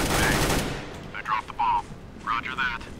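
Rapid automatic gunfire in Counter-Strike: Global Offensive, a loud burst at the start followed by several shorter ringing shot bursts, with someone talking over the game.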